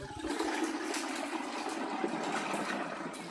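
Water gushes steadily into a pesticide sprayer tank, a loud continuous rushing and splashing that lasts throughout without pause.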